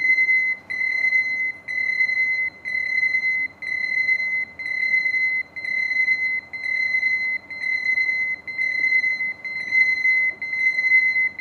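Ink-loading alarm on a Focus Atlas 1311 UV printer beeping in a steady repeating pattern of shrill tone bursts about once a second, clear and alone.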